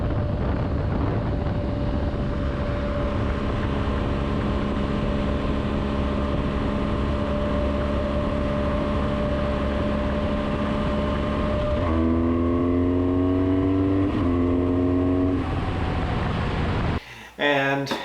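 BMW R1250GS motorcycle cruising with a Puig touring windscreen raised, steady engine drone and wind buffeting around the helmet, then a few gear changes with rising revs near the end, close and continuous.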